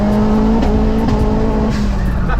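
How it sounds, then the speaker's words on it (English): A 370bhp Mk1 Ford Focus RS with a turbocharged engine drives hard, its engine note loud and close from inside the car, with pitch rising and falling as the revs change. "Come on, is that not one of the better sounding turbocharged cars"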